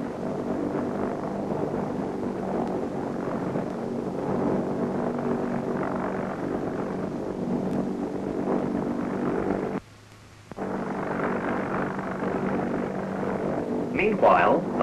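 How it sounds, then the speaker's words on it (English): An RAF rescue helicopter from Leuchars lifts off and flies during a lifeboat exercise, a steady loud rotor and engine drone filling the whole stretch, with a brief drop near the end and narration over it. "the helicopter is on its way"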